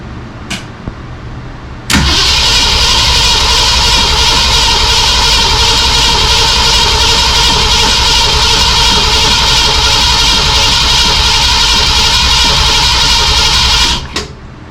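A 1964 Ford Falcon Sprint engine turns over once or twice, then catches and roars into a loud, steady idle close by for about twelve seconds before cutting off.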